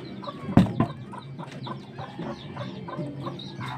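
Several chickens cluck in short repeated bursts close by, with a sharp knock or flutter near the start and no talking.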